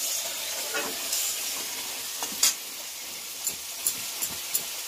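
Eggplant slices frying in hot oil in a village kitchen, a steady bright sizzle with several sharp spits and crackles popping out at irregular moments, no speech.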